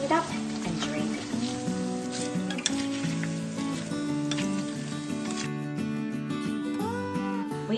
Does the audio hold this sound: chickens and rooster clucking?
no